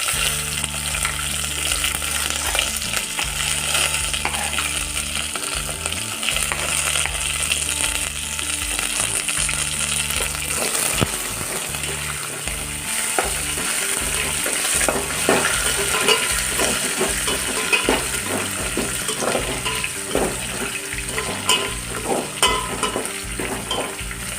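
Green chillies, onion and curry leaves fry in a hot pan with a steady, loud sizzle, while a spoon stirs and scrapes through them in repeated strokes.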